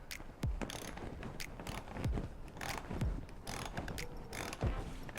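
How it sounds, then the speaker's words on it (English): A hand ratchet clicks in quick, close bursts while loosening a 10mm bolt on a Tesla Model Y, with repeated rapid pawl ticks and short pauses between strokes. "And let me unscrew this boy. 10mm right"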